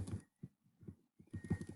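Horses in a video game give soft, separate clip-clop hoof sounds and snorts, a few short bursts with gaps between them, faint and alone.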